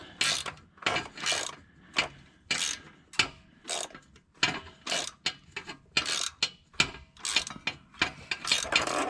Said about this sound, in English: Let's just hit it with a socket, eh?